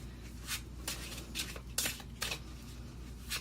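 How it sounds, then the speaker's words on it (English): Tarot cards being shuffled in quick, crisp riffling bursts, several separate shuffles with brief pauses between, close and fairly quiet. "concentrate on them as I'm shuffling which one you should choose"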